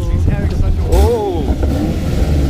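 A Chevrolet Camaro engine revs hard as the clutch is dumped, a loud rising snarl jumping in mid-clip over steady rumble, with people talking over it.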